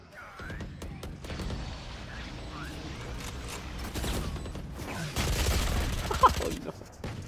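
Gunfire in the first-person shooter Valorant rattles through the mix as rapid bursts and single shots, growing louder and denser near the end, while a player talks over the action.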